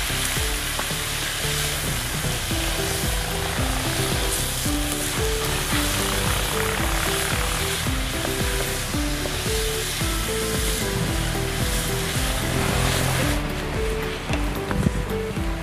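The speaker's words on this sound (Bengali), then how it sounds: "আলুটাকে লাল লাল করে ভেজে নেব" Steady, dense sizzling of potatoes frying in oil with turmeric and salt, with occasional stirring scrapes and a musical tune running underneath throughout.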